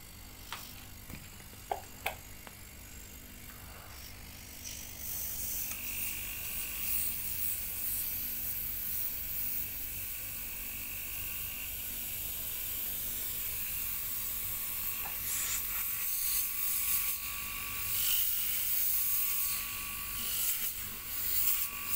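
A vacuum pump on an air-conditioning compressor runs for an AC service test in a workshop, a steady mechanical buzz and whine that starts after a couple of clicks and holds at an even level, close by, with no talk.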